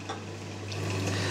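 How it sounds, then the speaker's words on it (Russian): Diced bacon frying in a pan, giving a steady soft sizzle with small crackles and light stirring, fairly quiet and close, with no talk. "И обжариваем нарезанный бекон до красивой золотистой корочки."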